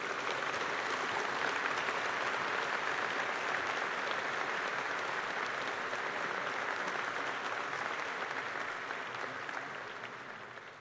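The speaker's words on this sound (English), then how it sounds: "you can give them a round of applause as they come up" A debate audience applauds as the debaters come up onto the stage, a broad steady wash of clapping from a large crowd that holds evenly and then fades slightly at the end.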